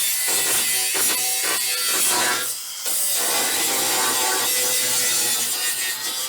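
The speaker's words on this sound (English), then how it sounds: "I need to grind some paint away on this side" Grinder stripping paint from the side of a 1965 Chevrolet C10 truck bed, a loud, harsh abrasive rasp of steady grinding close up with a brief dip in the middle, no voices.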